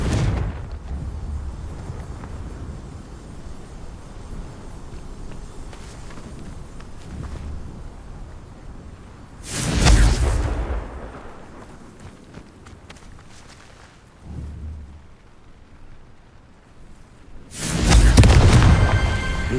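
Confringo blasting spell explosions in the game Hogwarts Legacy, two loud booming blasts about eight seconds apart, with a softer thud between them and light footstep-like movement and ambient rumble underneath.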